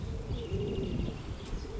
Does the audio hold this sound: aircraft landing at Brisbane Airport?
no